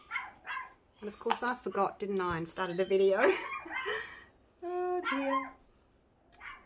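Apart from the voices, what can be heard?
dogs barking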